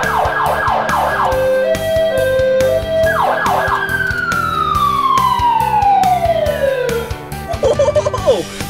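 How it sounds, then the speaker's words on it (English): Ambulance siren wailing loudly and close: rapid yelp cycles shift into a long falling wail, then pulsing bursts return at the end, over a steady rumble of vehicle noise. "The siren. Listen."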